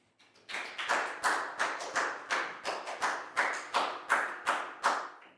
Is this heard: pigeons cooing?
no